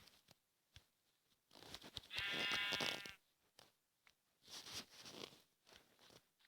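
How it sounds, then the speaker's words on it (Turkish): A single synthetic Minecraft sheep bleat rises clearly in the middle, surrounded by soft clicks and tapping noises. "Ah şurada koyun var."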